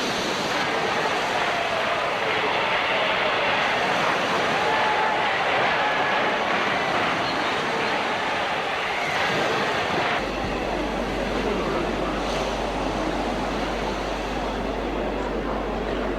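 Sea waves and a strong wind surge as the waters part: a loud, continuous roaring wash of surf and gusting air that shifts character partway through and never lets up.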